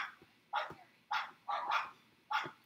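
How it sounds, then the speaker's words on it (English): Dogs bark in short sharp bursts at a passerby walking a dog, about four or five barks spaced irregularly, heard at a moderate distance with quiet gaps between them. "The barking is loud. And they bark at everything."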